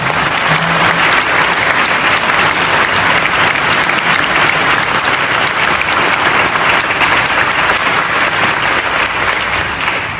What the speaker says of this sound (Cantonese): 俾啲掌聲我哋義工贊助人